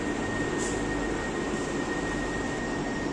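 A driverless metro train in Rome runs with a steady, loud rumbling roar and a high constant whine, unbroken for about three seconds, with no talk over it.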